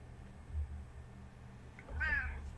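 A cat gives one short meow near the end, faint and close, over a quiet low hum in an otherwise still room.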